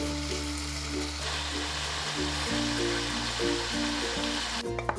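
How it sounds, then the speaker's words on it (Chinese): Chicken pieces sizzling in oil in a pan as they brown, a steady close, bubbling hiss running throughout beneath background music. "最喜欢这种滋滋冒油的肉香味啦"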